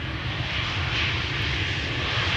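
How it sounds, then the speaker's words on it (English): An EasyJet Airbus A320 landing at Amsterdam Schiphol Airport produces a steady loud jet engine roar with a broad hiss, continuous and fairly near. "EasyJet just landed, A320, having arrived from, what was it? Paris Charles de Gaulle."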